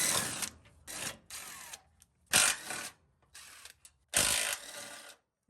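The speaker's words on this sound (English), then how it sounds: "I'm gonna use my little DeWalt gun to get it out." A small DeWalt power gun removing 12mm bolts during an FJ Cruiser automatic transmission removal, loud close mechanical whirring and rattling in several short bursts separated by brief pauses.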